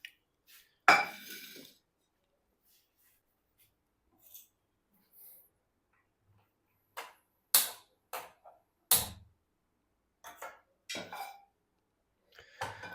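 A pan handled on a stove while making homemade oat and nut protein bars gives sparse, separate clinks and knocks, with one sharper hit early and then a loose run of short metallic taps set against quiet gaps.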